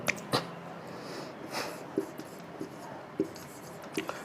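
Handwriting on paper in pen: soft scratchy strokes and light taps in short irregular bursts, close and quiet, with no talking.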